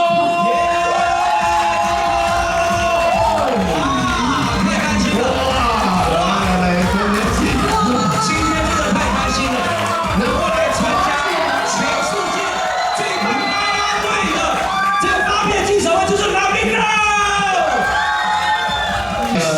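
A packed audience at the Lamigirls EP launch event cheers, whoops and shrieks loudly and continuously as a guest comes on stage, with high excited shouts rising above the roar.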